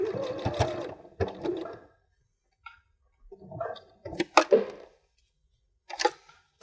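A sewing machine stitches across the flat bottom of a fabric scissors case in several short, separate bursts broken by silent pauses, with a few light clicks and taps between runs.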